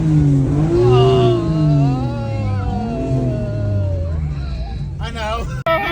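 A Nissan Skyline GT-R R33 revs its exhaust at an exhaust competition, engine tone rising and falling up close under loud excited talk from riders inside, with a sharp burst near the end.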